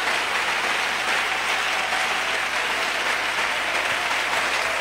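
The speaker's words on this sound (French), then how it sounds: "Clap for God. Applaudissez pour Dieu." A church congregation at an international conference on church growth claps together in a steady, dense, loud wash of applause that holds evenly throughout with no talking over it.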